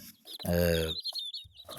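A hen gives a loud, drawn-out cluck, followed by softer bursts of clucking and high peeping from newly hatched chicks nearby.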